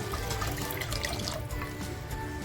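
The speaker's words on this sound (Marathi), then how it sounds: "पाट्याचं पाणी निघालं होतं ते पाणी हे असं टाकून थोडंसं पाणी टाकून घेते" Rinse water from a grinding stone pours steadily into a pot of stuffed crab curry, a close, continuous splashing gush with no talk.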